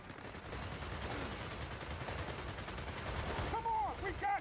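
Rapid gunfire from the video game Gears of War 4 rattles steadily in the background, a dense stream of shots blending into combat noise, with a voice shouting briefly near the end.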